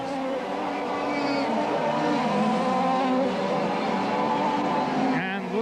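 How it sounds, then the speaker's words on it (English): 135cc racing karts at the 1986 Hong Kong Kart GP final, duelling closely on track: high, buzzing two-stroke engine whines rise and fall together continuously under a commentator's voice. "Carts numbers 4 and 7 battling away there for 4th and 5th positions"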